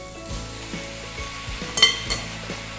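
Rice noodles tossed into a pan of sizzling vegetables for Pad Thai, a steady frying hiss with periodic stirring scrapes and one sharper metallic clink, close and unaccompanied by speech.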